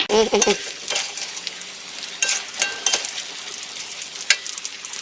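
Sizzling fried small white pomfret being stirred into dry sambal in a hot pan, with scraping and clinking strokes at irregular intervals, close and steady.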